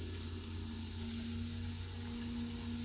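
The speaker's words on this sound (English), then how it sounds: "And then we'll go ahead, throw my onions in there." Onions frying in a pan for a quick low-carb miso soup, a soft, steady sizzle heard faintly and close over a low background hum, with no voices.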